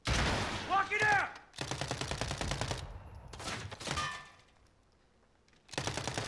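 Rapid bursts of automatic gunfire in a video game come in several loud volleys separated by short pauses, with a metallic clank and faint in-game radio chatter between them.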